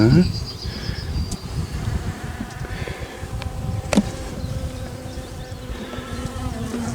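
A dense swarm of calm honeybees hums continuously at an open hive as frames are inspected, a steady droning buzz with a few sharp clicks and handling noises.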